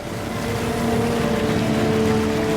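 Motor launch engines drone steadily on a quiet river at night during a WWII commando raid flotilla approach, a continuous low hum with faint tonal lines and water wash, no voices.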